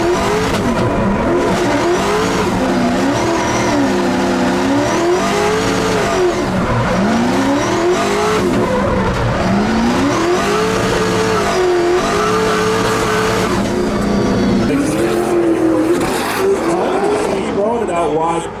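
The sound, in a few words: Cummins-swapped Corvette engine revving at a car competition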